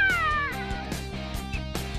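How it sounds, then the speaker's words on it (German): Semi-tame cheetahs make a high, sliding chirping call followed by several short, close chirps and hissing bursts, with low ambient noise underneath and no speech. "Halbzahme Geparde zeigen eine andere Körpersprache. Sie fauchen und schnalzen mich an."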